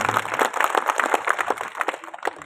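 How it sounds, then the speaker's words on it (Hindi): Audience at a Hindi poetry gathering (kavi sammelan) in Pichhor breaking into lively applause, dense overlapping claps that stay fairly loud and steady throughout. "मैं चाहता हूं एक बार इनके अभिनंदन में आप लोग जोरदार तालियां बजाएं।"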